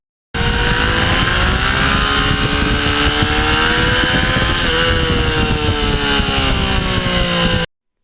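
A 2020 Yamaha MT-09 motorcycle engine drones steadily and loudly up close as the bike rides along, its pitch rising and falling slightly, with no one speaking.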